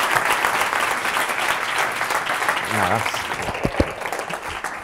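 Steady crowd applause rolls on, dense and even, tapering slightly toward the end with a few louder individual claps.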